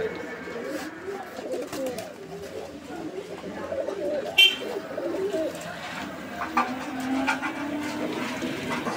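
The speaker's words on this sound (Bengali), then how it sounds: "এগুলো বুদাপেস্ট কবুতর, আর আপনারা দেখতেই পাচ্ছেন এগুলো হচ্ছে মূলত হাঙ্গেরিয়ান বিবেক বুদাপেস্ট" Hungarian Budapest pigeons coo softly and repeatedly at a pigeon market, with a steady murmur of voices and background noise around them.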